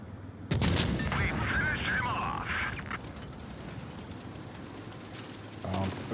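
Rapid autoloader bursts from a T57 tank in a video game, a string of sharp cannon shots fired in quick succession over about two seconds, loud and close, followed by mechanical reload noise with a voice talking over it.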